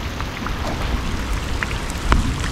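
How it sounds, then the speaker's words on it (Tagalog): Heavy rain pours down in a steady, dense roar with scattered drop impacts, loud and close, and no voices over it. "nag-ulan na. Kalaking ulan."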